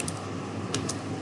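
Brief, close keystrokes on a computer keyboard during spreadsheet data entry: a few distinct clicks over a steady background.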